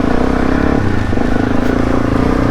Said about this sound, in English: there's a four-wheel drive coming in